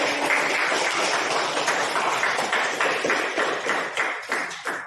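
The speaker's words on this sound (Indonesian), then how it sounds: "Kita berikan aplaus bersama-sama tentang hasil diskusi hari ini" A classroom group claps together at the end of a discussion, a dense, steady burst of applause that stays strong and then thins into a few scattered claps.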